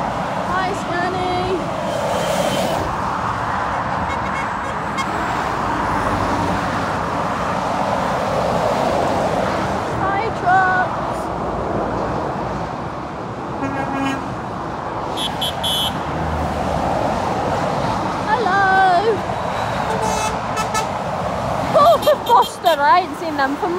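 A Scania truck passing on the road, its steady engine and tyre roar rising and holding alongside other traffic, with people talking over it.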